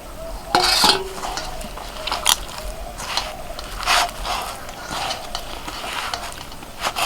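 A bowl is rinsed and a little water poured in while mixing green roti dough, giving clinks of a bowl and spoon, splashes and scraping knocks at close range, with no talking.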